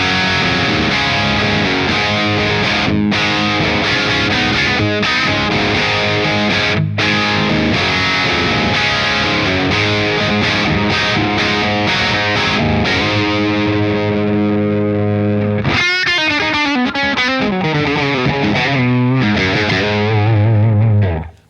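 Electric guitar played at high gain through a Friedman Jake E Lee signature amplifier with the volume just over halfway, giving a loud, thick, distorted tone of sustained chords and riffs with no talking.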